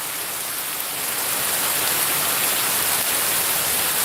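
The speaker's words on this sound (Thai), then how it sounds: "ลมอ่ะทุกคน" Wind blowing outdoors on a rainy day, a loud, steady hissing roar across the microphone that swells after the first second and holds, with no talking.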